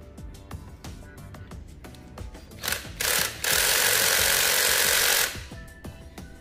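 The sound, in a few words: cordless electric screwdriver loosening a tight screw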